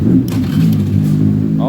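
A Honda Beat FI scooter engine is cranked and starts, a low buzzing idle rumble close by that holds steady for a moment before cutting off.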